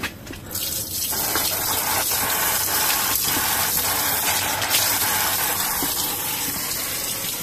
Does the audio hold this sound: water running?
yes